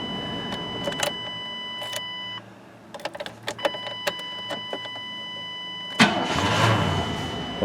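A 1997 Chevy C1500 pickup has its engine cranked and fired up, preceded by electronic chimes and a few clicks; the engine catches with a burst and settles into a steady, rumbling idle close by.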